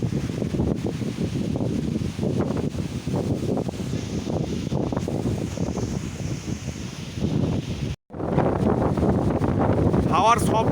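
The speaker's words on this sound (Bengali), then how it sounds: "হাওয়ার শব্দ আপনারা শুনতে পাচ্ছেন" Strong storm wind roars through trees in gusty, buffeting surges, loud and close with heavy rumbling on the microphone and a brief dropout near the end; no talking.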